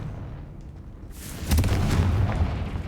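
A Confringo fire spell explodes in Hogwarts Legacy, a sudden loud blast about halfway through that rolls into a rumbling roar after a quieter rustling start.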